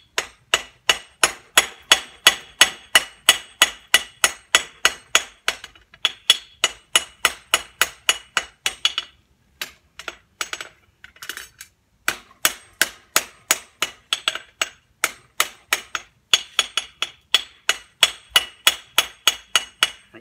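Loud, evenly paced metallic hammer strikes on an anvil ring out one after another during horseshoe making, with a brief pause in the middle before the rhythmic clanging resumes.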